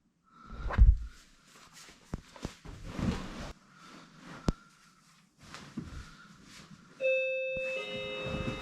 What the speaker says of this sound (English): Doorbell, straight away.